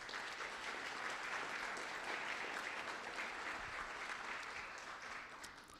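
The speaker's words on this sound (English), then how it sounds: "a round of applause for all four" An audience at a 2023 candidate night applauds four candidates with steady clapping from a crowd, heard at a distance, tapering off slightly toward the end.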